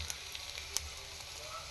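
A faint, even sizzle comes from hot tempering poured onto ground chutney, with a couple of small pops and crackles breaking through the low steady hiss.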